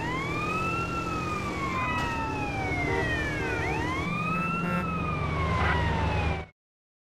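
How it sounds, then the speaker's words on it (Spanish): Wailing emergency sirens on a truck in GTA San Andreas rise and fall continuously, several overlapping, loud and close over a rumbling engine, then cut off abruptly at the end. "Tiene más sirenas encendidas ese camión que un coche de poli normal."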